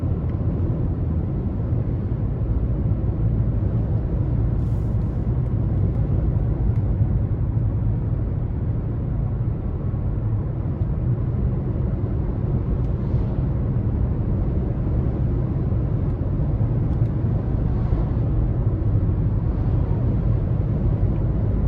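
Steady low road rumble and broadband wind and tire noise fill the cabin of a 2022 Nissan Altima SR Midnight Edition with a CVT while driving, constant and fairly loud with no talking.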